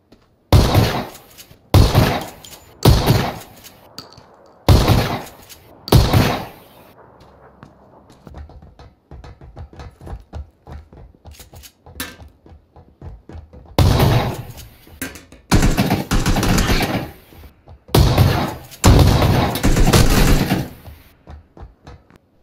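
Loud shotgun blasts in PLAYERUNKNOWN'S BATTLEGROUNDS, fired in two bursts of sharp booming shots, about four at the start and four near the end, with quieter rustling and movement between them.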